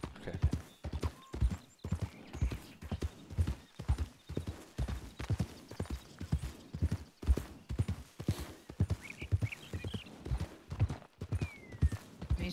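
Horses in a western video game clip-clop steadily in a rapid, regular hoofbeat rhythm, close and prominent, with an occasional faint whinny and no talk over it.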